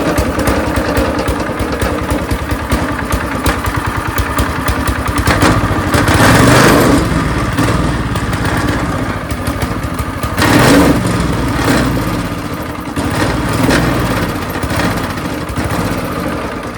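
A yard go-kart engine runs roughly and unevenly, a loud close rattling drone that surges with throttle blips around six and eleven seconds and sags in between, with no talking.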